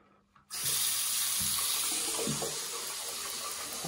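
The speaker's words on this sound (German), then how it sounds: "wenn ich jetzt hier aufmache, kommt kaum noch Wasser raus." Water gushes steadily from an opened tap, starting abruptly and continuing as a loud, close, continuous hiss and splash with no talking.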